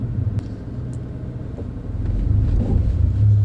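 A manual-transmission car pulls away in first gear, its low engine rumble steady and close, then swelling louder in the second half as it gathers load.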